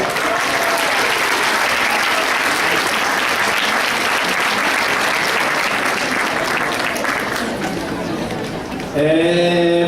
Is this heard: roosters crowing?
no